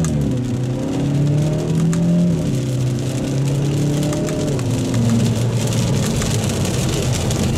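A 2024 Kia Forte GT accelerates hard, a loud, continuous engine drone rising in pitch through gear changes, heard close from inside the car.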